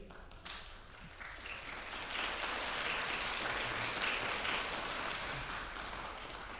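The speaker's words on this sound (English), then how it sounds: "The people are clapping, Chloe." A crowd applauds steadily, the clapping swelling after a moment and holding as a dense, continuous patter that fades slightly at the end.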